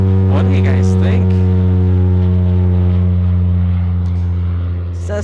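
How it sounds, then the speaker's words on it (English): Cessna Caravan turboprop taking off at Anchorage airport, a loud steady engine drone with strong sustained low tones that slowly fades slightly toward the end, with brief overlapping voices early on. "Cessna Caravan taking off"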